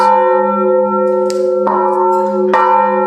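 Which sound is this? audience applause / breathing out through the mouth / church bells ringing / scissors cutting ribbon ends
church bells ringing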